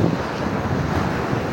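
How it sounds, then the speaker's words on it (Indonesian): Ocean waves washing on a cold, windy beach, a steady roar of surf mixed with wind buffeting the microphone, loud and continuous with no voices. "Wih, belakang saya ombak cuy. Dan ini anginnya dingin banget loh."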